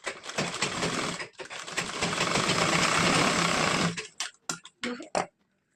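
A sewing machine stitches half-inch tucks on a princess-cut blouse, running in loud steady bursts with a short pause, then breaking into brief stop-start runs near the end.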